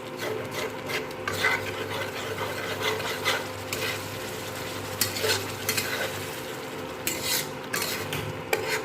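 Eggplant pieces for South Indian-style bagarey baingan fry in a pan over a medium flame, giving a constant close sizzle. A utensil scrapes and clinks against the pan in irregular bursts as the eggplant is stirred, with no talking.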